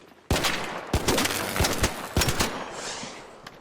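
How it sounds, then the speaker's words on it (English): Gunfire in the video game ARC Raiders, a shotgun firing as a string of sharp, loud blasts at irregular intervals with a reverberant tail, mixed with other shots in a busy firefight. "and this is a shotgun"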